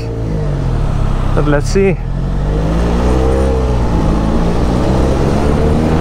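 Benelli Leoncino 500 motorcycle engine droning steadily with rising revs during a road test ride in traffic, wind noise throughout, someone talking briefly over it.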